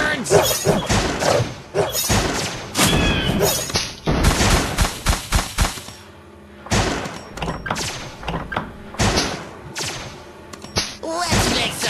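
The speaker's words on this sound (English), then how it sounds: "Look at explosions!" Explosions in a video game burst out again and again in a rapid string of loud booms and crackling blasts, with brief lulls between them and game character voices calling out over the action.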